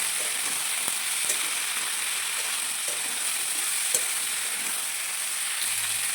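Mixed vegetables with salt and turmeric sizzle steadily in a pan, a constant hissing fry with a few soft scrapes and knocks of stirring, close and alone without any talk.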